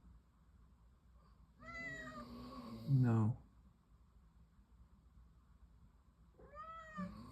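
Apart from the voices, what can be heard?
cat meowing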